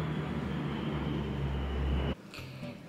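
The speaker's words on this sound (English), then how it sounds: "Now there's an aeroplane." An airplane flies overhead, a steady, broad engine rumble droning for about two seconds, then cutting off abruptly, leaving quieter background noise.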